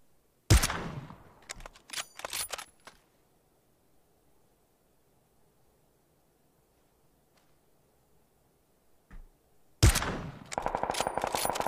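Gunfire in the battle royale game PUBG: a close, loud burst of rapid shots, a pause of near silence with faint rustling, then another sharp shot and a renewed burst of firing.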